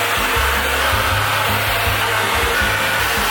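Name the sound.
hair dryer with diffuser drying curly hair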